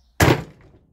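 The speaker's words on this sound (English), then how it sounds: "I got my biggest rubber mallet I've got. Give it a good out of almighty whack." A single heavy dull thunk as a big rubber mallet hits a socket held on a chainsaw, sharp at the start and then decaying quickly in a quiet workshop.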